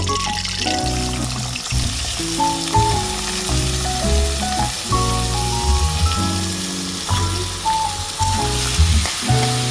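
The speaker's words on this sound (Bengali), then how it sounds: "তেল গরম হয়ে গেলে এখন এটার মধ্যে আমি পেঁয়াজ যে কেটে রেখেছিলাম সেগুলো দিয়ে দিব বেরেস্তা করার জন্য" Sliced onions and three bay leaves frying in hot oil, browning for an egg curry, give a steady, fairly loud sizzle that runs throughout with no voice over it.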